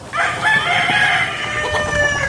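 A rooster crows loudly nearby while other chickens cluck and squawk throughout a coop in Tangalan, Aklan, a busy flock sound with no talking.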